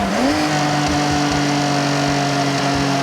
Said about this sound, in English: I love that overrun sound.